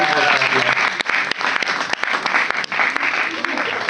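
Audience applause for Adia, dense steady clapping from a room full of people lasting the whole stretch, with a voice speaking over it.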